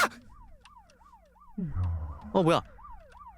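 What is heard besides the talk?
police car siren in a video game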